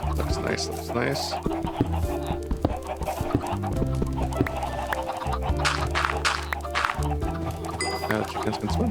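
Blocky Minecraft chickens cluck several times over a dense bed of game music, while a voice speaks over the scene.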